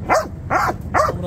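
A young Malinois guard dog at a Baghdad street market barks three times in an even rhythm, loud and close, with faint market background between barks.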